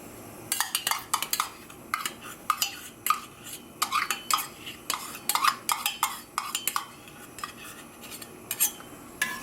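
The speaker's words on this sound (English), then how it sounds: "So we're gonna stir this in." A mango basil sorbet mixture is stirred in a bowl, and the utensil clinks and scrapes against the sides in a quick irregular rhythm, close and clear, with no talking.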